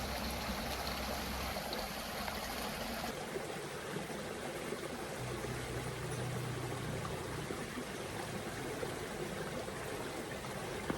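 Creek water flows and trickles steadily beside a hiking trail near a waterfall, a continuous close rushing wash with no voices.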